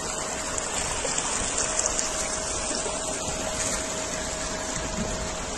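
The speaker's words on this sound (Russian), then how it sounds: "Вот вся эта река" Floodwater rushing down a street in Anapa like a river, a loud, unbroken roar of flowing water that stays steady throughout with no voices.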